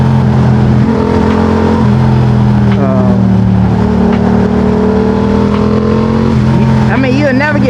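Yamaha MT-07 motorcycle engine revving hard with aggressive rising and falling pitch, loud and close, running continuously throughout while someone talks over it.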